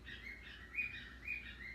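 Birds chirping softly in a steady stream of high twittering calls, faint and distant over a low background hum.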